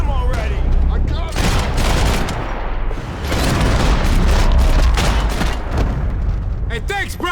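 Heavy gunfire and explosive booms in Max Payne 3, with dense sustained shooting under shouted voices in a chaotic firefight.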